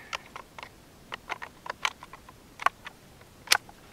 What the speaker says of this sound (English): reinsert magazine, recharge bolt.